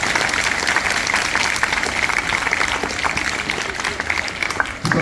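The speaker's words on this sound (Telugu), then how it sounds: "Give a big clap." Students at a girls' junior college Constitution Day function in Kadiri clap together in a sustained, dense round of applause that stays loud and even before tapering off at the very end.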